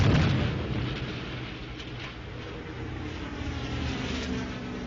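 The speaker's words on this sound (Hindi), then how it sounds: "उत्तरी और पूर्वी फ्रांस में शहरों पर बमबारी की गई।" Aerial bombing of cities in northern and eastern France during the Second World War: a sustained roar of aircraft engines mixed with heavy rumbling blasts, loud and dense throughout.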